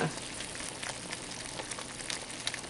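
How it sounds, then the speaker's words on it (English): Hot sugar syrup for pecan pralines bubbles hard on high heat in a pot, giving a dense, steady crackling fizz like frying, close and moderately loud. "Now it's bubbling up. It'll just bubble and bubble"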